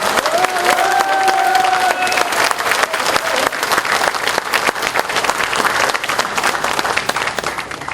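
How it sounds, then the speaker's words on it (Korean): An audience at a Korean political party convention in Sejong breaks into sustained, loud applause that fills the hall for the whole stretch, dense steady clapping with some cheering and a voice briefly over it at the start. "두 분에게 뜨거운 박수를 한번 보내주시기 바랍니다."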